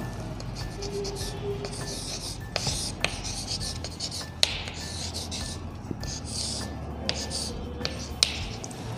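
Pen scratching out the date on paper while setting up a formal Hindi letter, a steady soft scraping with small ticks and strokes, close and quiet, with no talking.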